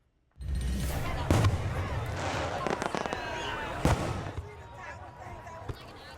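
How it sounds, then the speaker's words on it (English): Fourth of July fireworks bursting over Fort Lauderdale at night, a rapid series of loud booms and crackles with two especially sharp bangs, close and dense before tapering off. "Dazzling displays of fireworks lit up the night sky as families across South Florida celebrated the 4th of July."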